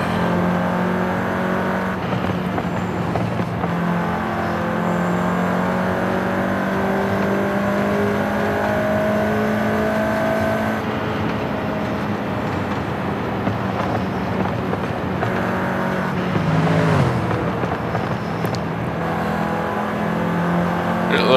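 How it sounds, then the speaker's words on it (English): A 2021 VW Golf R all-wheel-drive engine hums from inside the car, blipping up in revs on downshifts and settling into a steady drone, with wind noise throughout. "I'm overdoing it with the downshift in here."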